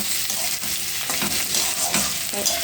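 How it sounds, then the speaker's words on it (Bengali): Onion, garlic and potato frying in oil make a dense, close sizzle broken by repeated scraping stirs of a spatula, loud and busy with no voices over it. "তো এই পেঁয়াজ, রসুন আর একটু আলু দিয়েছি, দিয়ে এই ভাজা ভাজা করছি।"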